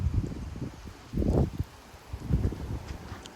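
Wind gusting through live oak trees in Frisco, Texas, in rainy weather with gusts near 30 mph, coming in low rumbling surges, with one strong rustling burst in the middle and another toward the end.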